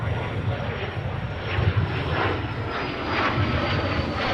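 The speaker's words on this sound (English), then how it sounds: "So our C-17 is about to get out of here as well." Boeing C-17 military jet departing MSP airport, a loud, steady roaring engine rumble that swells slightly as it powers away, with no voices.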